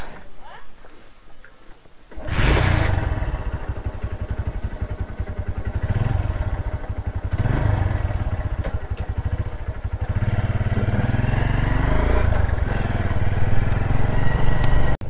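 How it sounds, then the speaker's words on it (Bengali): A motorcycle engine starts up after a quiet moment and keeps running steadily, loud and close, with rumbling revs and some clatter throughout. "এই যে আমার বাইক, এই বাইকে উঠে যাওয়া যাক"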